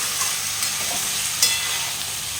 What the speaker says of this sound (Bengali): এরপরে নাড়াচাড়া করে ভালোভাবে কষে নেব একটু।